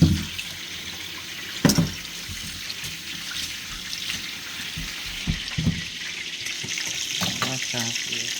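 Tap water runs steadily into a sink while raw chicken is washed for Jamaican country-style chicken. Occasional clunks and splashes from handling break through the constant close stream.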